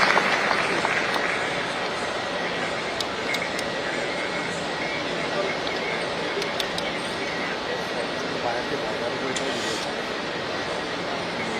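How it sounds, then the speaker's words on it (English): Audience applause fills a hall at an occupational safety and health expo and summit in Goa, a steady broadband clatter of many hands sustained throughout at moderate loudness, with faint background noise and no clear talk. "a big round of applause, please"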